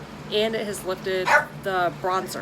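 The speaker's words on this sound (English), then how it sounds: "Excuse me, that was my dog." A pet dog barks a few sharp, close yips that break in over someone talking steadily through her makeup routine.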